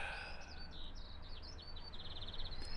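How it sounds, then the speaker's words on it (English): Birds chirping outdoors near a railway, with quick, high-pitched tweets and short trilling calls over a steady faint background hum, fairly quiet and distant. "And I can hear birds."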